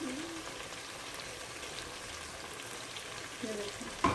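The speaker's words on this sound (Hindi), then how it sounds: "फिर हम ऐड कर देते होते हैं लहसुन और अदरक, और इसी तरह हम भुनेंगे" Garlic and ginger fry in a pan with a soft, steady sizzle at low volume, a faint scrape or two, and a sharp utensil knock right at the end.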